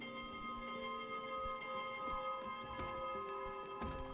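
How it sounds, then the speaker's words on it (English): A bell rung in the video game Spiritfarer, its tone ringing out with long sustained overtones across the whole stretch, with a few soft knocks and clicks underneath. "Wait a minute, I need to ring the bell."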